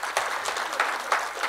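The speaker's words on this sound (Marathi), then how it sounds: "टाळ्या व्हायला पाहिजेत." Light applause from an audience as a book's author is invited onto the stage, a brief patter of claps with a few sharper peaks over a short span.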